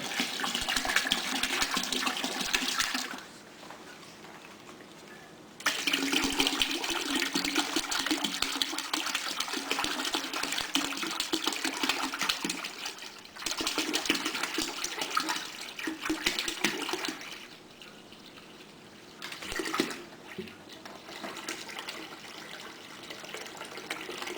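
Chilled water pours into concentrated extract wort to top it up, a steady gushing splash that stops and restarts several times, running in long bursts with brief quiet gaps between.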